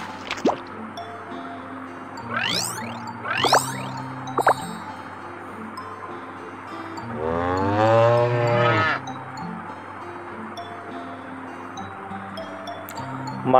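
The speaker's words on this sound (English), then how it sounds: "My friend cow." A cartoon cow lets out one long, loud, drawn-out moo midway through, set against light background tones and a few quick whistling sweeps earlier on.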